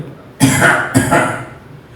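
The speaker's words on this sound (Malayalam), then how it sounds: "അദ്ദേഹത്തിനൊരു ചുമയുണ്ട്" Two loud, close coughs in quick succession, each a harsh burst trailing off, with quiet before and after.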